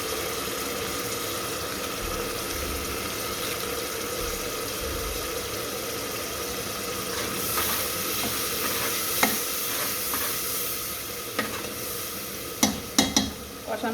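Haleem spice mix fries in a pan for a beef haleem, giving a steady close sizzle, then a spoon scrapes and stirs in a few sharp knocks toward the end.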